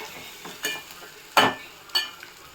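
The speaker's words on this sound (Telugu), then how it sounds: "దాని నుంచి సౌండ్స్ వస్తున్నాయి, ఎందుకంటే అది అవుతుంది కదా కుకింగ్" Food cooking in a pan in a home kitchen, with a soft steady sizzle broken by a few sharp scraping bursts of stirring, close and moderately loud.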